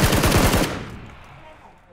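Loud bursts of rapid automatic gunfire in the battle royale game PUBG, a dense rattling volley for the first half that cuts off and leaves a fading echo tail.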